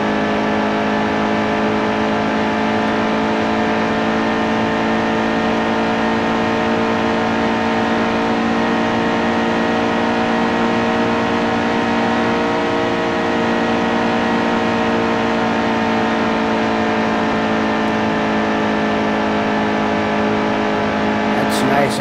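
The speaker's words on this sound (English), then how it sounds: "Alright, let's see how fast we can run this. It's nice and smooth. It's all full throttle." A NASCAR race car in the game NASCAR Heat 2 holds full throttle, its engine a steady, loud, high-pitched drone that never lets up, while someone talks over it.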